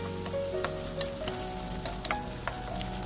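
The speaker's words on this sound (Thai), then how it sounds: "เราก็จะผัดผักชายากับไข่เนี่ยให้เข้ากันเลยนะครับ" Blanched chaya leaves are stir-fried with egg in a wok, giving a continuous sizzle with frequent scraping and tapping stirring strokes and a low steady hum underneath.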